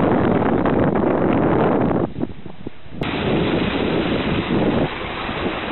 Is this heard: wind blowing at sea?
yes